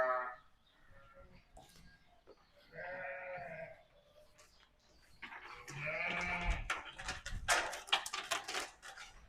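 Sheep and lambs on a sheep farm bleat in repeated overlapping calls, some close and loud, others softer, with rustling and shuffling between them.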